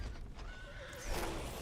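Horse neighing in a video game, a single rising and falling whinny heard fairly faintly over a steady background hum, without any talking.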